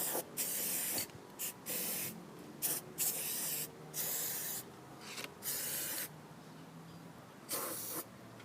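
Short bursts of rattle-can touch-up paint from a shaker spray can, about eight hisses of roughly half a second each with brief gaps between them, close by and steady, no voices.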